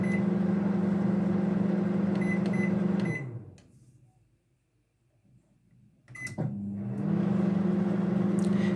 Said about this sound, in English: Return the bowl to the microwave and dial another 3 minutes.